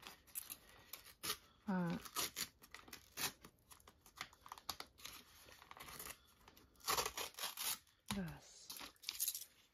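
Wrapping being torn open at home in short, crisp ripping bursts spread across the clip, with voices talking and laughing in between.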